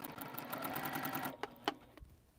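A sewing machine runs a quick, even burst of stitching along a diagonal quilt seam, then stops, leaving a few separate clicks and taps as the needle settles.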